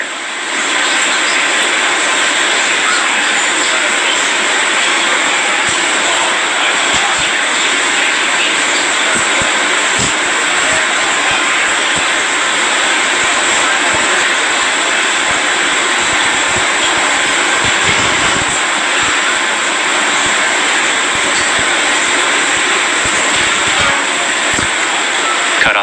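A SpaceX rocket's main engines fire during the Bangabandhu satellite launch, a loud, steady broadband roar that holds unbroken for the whole stretch with faint voices under it.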